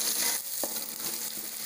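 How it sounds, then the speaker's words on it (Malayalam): Sliced onions frying in a heavy indalium pan for vegetable rice, a steady close sizzle with soft stirring scrapes and no voices. "ഈ സവാളയൊക്കെ നന്നായിട്ടൊന്ന് മുരിഞ്ഞു വരണം"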